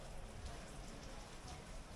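Heavy rain pours down during a tropical storm on Koh Samui, Thailand. It makes a dense, constant hiss of drops hitting surfaces, close and even throughout.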